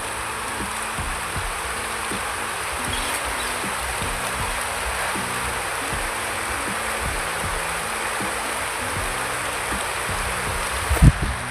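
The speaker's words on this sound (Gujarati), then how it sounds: "જો કે વરસાદ ચાલુ થઈ ગયો." Winter rain falls on a rural field where cluster beans (guar) are being cut, a steady soft hiss with scattered ticks and a brief thump near the end.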